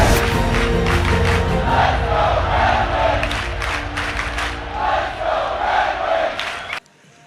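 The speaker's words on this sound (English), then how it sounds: "Listen to this crowd." A packed hockey arena crowd roars and chants during an NHL prospect tournament game between Detroit and Toronto, loud and rhythmic with surging cheers, then cutting off abruptly near the end.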